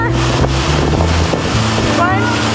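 Ocean waves and gusty wind on the shore at Forvie National Nature Reserve make a loud, continuous rushing roar with heavy wind buffeting on the microphone, and faint voices can be heard under it.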